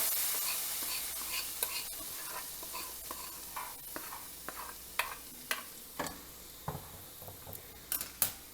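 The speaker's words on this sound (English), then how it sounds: "Give it a stir. Add into your paste." A Garcinia cambogia (kudam puzhi) paste mixture is stirred in a pan over a faint background hiss. Soft scrapes and clicks come at first, then grow into more regular, sharper utensil taps toward the end.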